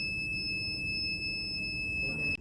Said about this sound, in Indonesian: buzzer akan berbunyi paling lama, yaitu dengan durasi 7 detik sebagai tanda peringatan maksimal